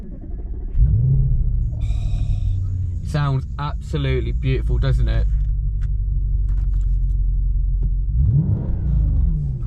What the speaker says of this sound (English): as soon as we put this in, it has got the loudest cold start I think I've heard